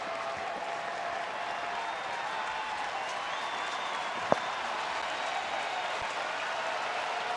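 A Texas Rangers home crowd of about 36,000 at a baseball game cheers and claps on its feet, a steady roar of distant applause filling the stadium, with one brief sharp knock partway through.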